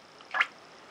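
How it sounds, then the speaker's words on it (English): Sheaffer Snorkel Statesman fountain pen being filled, giving one short, soft bubbling gurgle as the plunger is pressed down, close and quiet against a faint background hiss. "You can hear that lovely bubbling noise, which is what we want to hear."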